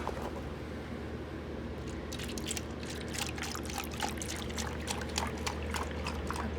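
Chai poured into a glass for an iced latte, a soft continuous trickle with splashy bursts that build after the first couple of seconds, over a steady low background hum.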